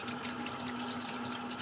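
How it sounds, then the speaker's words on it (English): Water pouring steadily from a tap for handwashing, a close, continuous hiss and splash with no break and no voices. "wash my hands"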